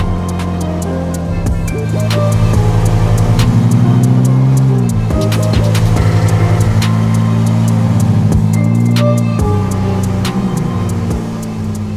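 A BMW M4 pulls away with its engine rising and easing through a couple of gentle revs, close and steady over twelve seconds, with faint clicks and no talk.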